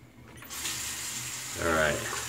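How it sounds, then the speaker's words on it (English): Tap water runs into a sink for a post-shave rinse, a steady close hiss that swells louder with splashing toward the end. "let's do a little rinse"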